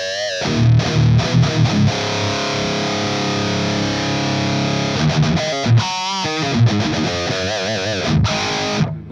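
An overdriven electric guitar through the crunch channel of a 5150 Block Letter high-gain amp emulation plays chords and riffs with a gritty crunch tone, sustained notes giving way to choppy bursts.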